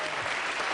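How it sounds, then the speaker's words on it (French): A comedy-club audience at a Jamel Debbouze stand-up show bursts into sustained, dense applause, a steady wash of many hands clapping close and loud throughout with no pauses. "Alors, vous pouvez l'applaudir."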